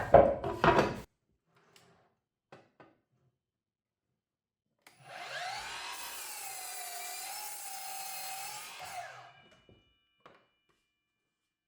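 A DeWalt scroll saw cuts off a piece of a wooden Christmas nesting nativity figure, giving a steady buzzing whine for about four seconds, heard alone after a short knock at the start.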